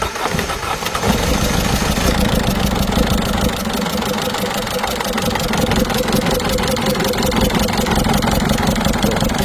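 A worn Peugeot 207 HDi 16V diesel with about 545,000 km idles roughly and unevenly after bleeding the fuel, its steady clatter loud and close, with a suspected injector seal leak.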